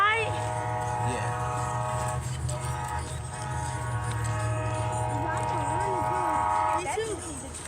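An Amtrak Wolverine 352 passenger train rolls past a train yard on a cold day, its K5LA horn sounding long, steady multi-tone blasts over a low rumble of the moving cars, with a brief pitch shift near the end.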